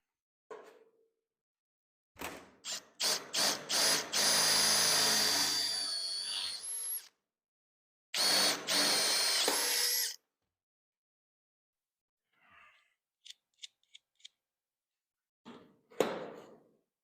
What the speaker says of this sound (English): I'm going to drill out the cab bolt or the cab holes and put some nut inserts in